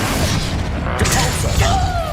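Confringo blasting spell explosions in the Hogwarts Legacy video game: a dense, continuous wash of booming impacts and crackling bursts, loud and close, with a couple of sharper hits partway through.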